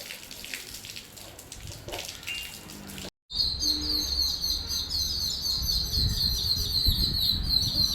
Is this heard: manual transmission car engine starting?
no